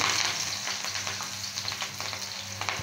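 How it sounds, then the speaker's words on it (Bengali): Chopped onion fries in hot oil, a dense continuous sizzle with stirring, heard close and alone for a few seconds. "এখানে দিয়ে দিয়েছি আমি পরিমাণ মতো তেল। এখন দিয়ে দেব পেঁয়াজ কুচি"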